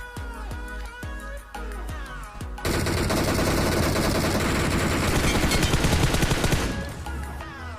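M4 rifle gunfire rings out in the mobile battle royale game BGMI. A few spaced single shots are followed by a long, loud, sustained automatic burst at close range.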